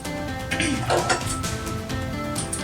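A cooking pan is set down on a Kerala home kitchen stove ahead of dry-roasting coriander and chilli powder for chicken curry, giving a few close metallic clanks and clinks of cookware.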